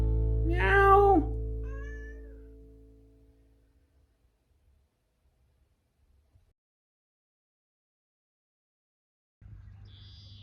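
A cat lets out one clear, close meow, followed by a long stretch of near silence and a faint low rumble at the end.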